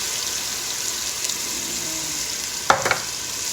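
Ground onion fries in a pan with a steady low sizzle and a faint stir, then a couple of brief sharp clatters near the end. No one speaks.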